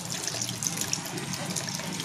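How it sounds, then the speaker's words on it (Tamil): Water is poured into a fish curry masala mix, a steady close splashing and gurgling stream running throughout without talk. "தண்ணியை ஊற்றிக்கலாம்."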